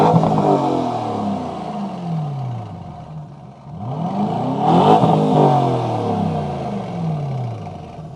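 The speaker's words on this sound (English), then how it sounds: "We have an adaptive exhaust system, so let's go ahead and take a listen." A 2025 Aston Martin DBX 707 SUV engine revs hard twice through its adaptive exhaust, rising to a loud roar, dropping back, then surging again with a deep, rumbling growl.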